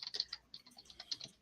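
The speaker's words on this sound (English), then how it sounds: "the clickety-clack of a reporter trying to get information for you people" Rapid clickety-clack of a computer keyboard under quick typing, a dense run of crisp close key taps with no talk.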